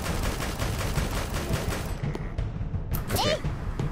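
Rapid bursts of gunfire from a video game, loud and dense at first and then breaking into a few separate shots with a brief ringing tone, over low rumbling game noise.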